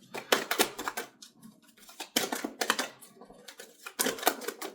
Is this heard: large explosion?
no